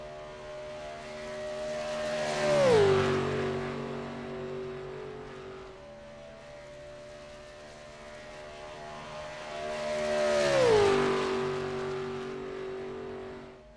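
Two CTC race cars scream past one after another during qualifying at Daytona in iRacing, each engine swelling from far to near and dropping in pitch as it passes, with a quieter stretch between them.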